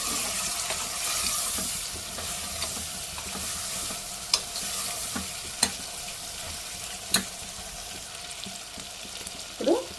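Mixed vegetables, cauliflower among them, fry in a pan with a continuous soft sizzle. A few sharp clanks of a spoon against the pan stand out, and no one speaks.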